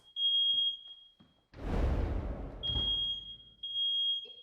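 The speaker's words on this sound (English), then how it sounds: "Smoke alarm silenced in the living room." A Google Nest Protect smoke alarm's high electronic tone sounds in a living room, broken by a loud burst of noise, then the tone resumes in steady pulses; no spoken warning is clear.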